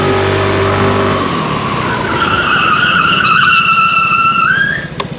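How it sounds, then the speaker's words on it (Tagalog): A Yamaha Mio Gear scooter's rear tire skids and fishtails under hard braking, a loud engine note giving way to a long rising tire squeal that cuts off abruptly near the end. "Finally made it able to fishtail."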